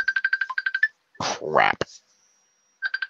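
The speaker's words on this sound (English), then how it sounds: "The hell is that? That's my phone." A mobile phone ringtone plays a rapid series of bright electronic beeps, stops while a person speaks briefly, then starts ringing again.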